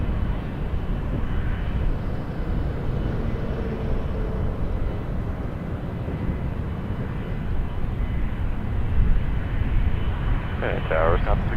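A fixed-wing airliner at Toronto Pearson airport gives a steady broadband engine roar, moderately distant, while a person talks over it.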